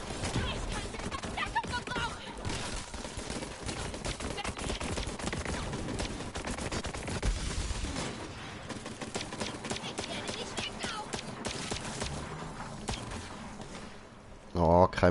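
Rapid gunfire in the Borderlands 3 shooter game, dense bursts of shots running continuously for most of the span, with a brief louder spike near the end.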